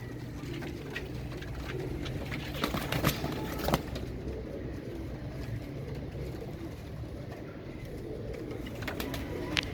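Kaldumay pigeons coo softly and repeatedly in the background, with occasional rustling and light knocks nearby.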